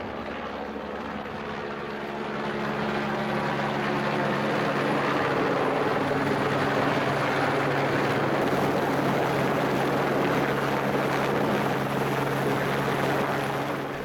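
A helicopter flies near and loud over the heights of Île de la Possession in the Crozet Islands, shuttling people from the Marion Dufresne; a steady rotor roar swells in after the first two seconds and holds, with no voices.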